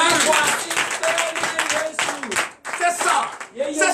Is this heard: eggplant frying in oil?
no